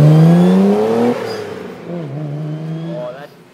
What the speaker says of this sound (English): He did like a little burnout and whatnot.